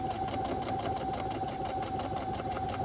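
A sewing machine stitches the side seam of a zipper pouch beside fleece, a steady, even motor whir with a fast regular needle rhythm, fairly quiet and close, with no talking.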